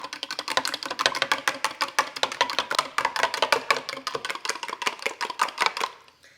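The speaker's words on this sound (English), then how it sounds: "And now we're gonna whisk this up." Keto pancake batter with sweetener whisked briskly in a bowl, a rapid, even run of close clicking taps that continues for several seconds before stopping abruptly.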